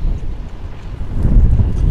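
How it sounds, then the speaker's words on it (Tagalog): Strong wind blows outdoors, buffeting the microphone with a steady low rumble that gusts harder in the second half. "Mukha natang malakas yung hangin dito sa labas."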